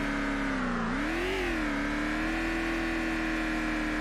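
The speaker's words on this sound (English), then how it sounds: "You are so obnoxiously loud, car." A loud car engine drones steadily close by, its pitch dipping then rising in a brief rev before settling into a sustained hum.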